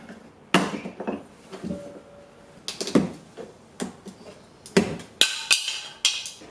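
Plastic rear reflectors on a WRX hatch are pried and squeezed out of their clips, giving a series of sharp clicks, knocks and rattles at close range, irregularly spaced, with no talk.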